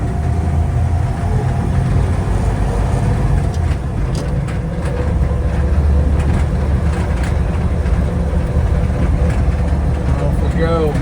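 A Toyracle truck driving around a neighborhood, its engine droning and rumbling steadily and loudly throughout, with road and cabin noise and occasional rattles.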